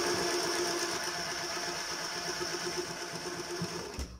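An embroidery sewing machine motor runs steadily with a fast, even mechanical whir and rattle at moderate volume, continuing without talk until a brief thump at the end.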